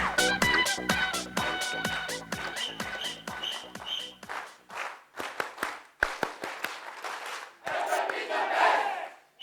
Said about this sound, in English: And could we please give a huge, warm round of applause to Claire Cotton May and Mr. Adam May.